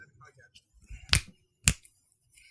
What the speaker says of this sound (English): I just clap my hands.